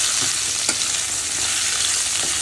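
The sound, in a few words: fish frying in oil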